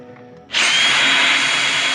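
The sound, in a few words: DeWalt 20 volt drill running as boat motor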